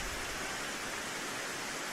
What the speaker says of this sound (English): Quite a different experience to be playing bowls while it's raining.